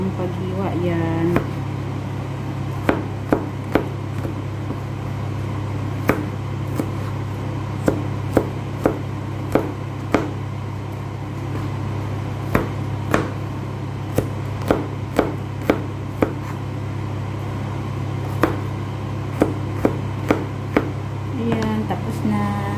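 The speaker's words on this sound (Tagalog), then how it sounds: "Hiwain lang siya ng maliliit. Ganyan lang, paghiwa yan." A knife chops food into small pieces on a board in a kitchen, sharp scattered taps at irregular intervals over a steady hum of an appliance, with a person talking throughout.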